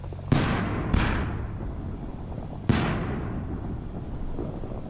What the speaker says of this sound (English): I was able to catch quite a few really fun moments of these fireworks in my neighborhood